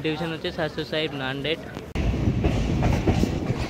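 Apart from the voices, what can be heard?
passenger train departing Jalna station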